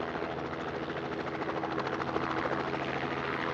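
Helicopter running steadily near an airfield with runways and taxiing jets, its rotor a loud, continuous thrum with rhythmic blade pulsing throughout, no talk over it.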